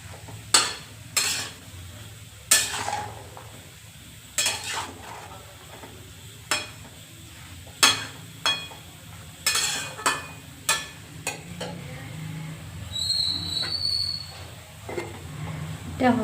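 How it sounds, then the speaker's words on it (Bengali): A spoon stirs ridge gourd curry with salt and turmeric in a pan. It scrapes and clinks against the metal in irregular strokes over a soft, steady sizzle of cooking. "এখন নাড়িয়ে চাড়িয়ে আবারও ঢেকে রাখবো।"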